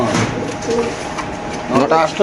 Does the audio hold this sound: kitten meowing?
no